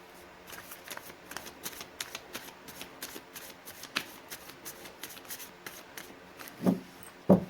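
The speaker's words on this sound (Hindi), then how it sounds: "मैंने कर लिए कार्ड्स की सफलिंग" Tarot cards being shuffled by hand in a steady run of soft riffling flicks, quiet and close, with two louder slaps near the end.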